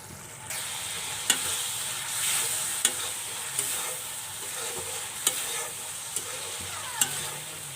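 Spice paste with salt, turmeric and chili powder frying steadily in a pan for a Bengali pangas fish and cauliflower curry, with a continuous close sizzle broken by sharp scrapes and clacks of a stirring spoon.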